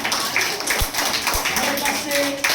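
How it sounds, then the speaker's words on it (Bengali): People clap for a medal winner at a district taekwondo championship celebration, a scattered round of applause in a room, mixed with chatter and a couple of thumps. "ভেরি গুড, হাততালি হবে প্রত্যেকে।"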